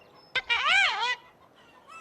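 Cartoon chickens let out a short squawk followed by a loud, wavering honk-like cluck, with fainter cackling starting again near the end.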